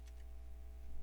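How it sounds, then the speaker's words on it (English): A few faint, quick clicks of keys typed on a computer keyboard, with two light taps close together at the start over a steady low hum. "So I'm going to type in Win."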